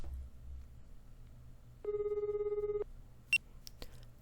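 A phone rings once in a visual novel game, a steady electronic trill lasting about a second over a quiet low hum, followed by a couple of short beeps and clicks.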